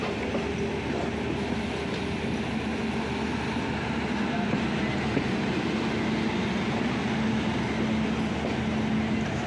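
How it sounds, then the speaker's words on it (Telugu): A freight train rolls past at a station in a steady, broad rumble of wheels and wagons lasting throughout, with a faint tonal whine underneath and no break in the noise. "మీరు ఫ్రైట్ ట్రైన్ కూడా చూడొచ్చు"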